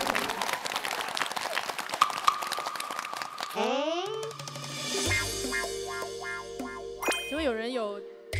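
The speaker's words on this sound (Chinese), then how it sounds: "鼓掌吧，啥也别说了，鼓掌吧" An audience applauds at a Youth With You season 2 talent show: dense clapping fills the first few seconds, then gives way to bright chimes, music and voices.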